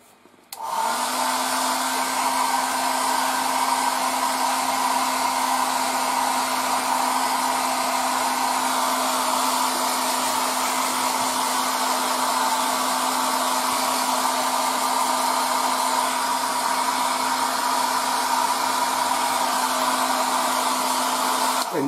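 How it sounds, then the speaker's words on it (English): An air dryer blows steadily on scale model paint, starting abruptly and running as an even, loud rushing hiss with a constant low motor hum for about twenty seconds before cutting off. "So I'll just use the air dryer again."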